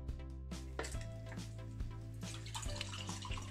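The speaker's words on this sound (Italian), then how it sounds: "Mi sto versando l'acqua" Cold water is poured into a glass at home during a morning routine, a short run of gurgling splashes with small clinks, close and fairly quiet over a low steady hum.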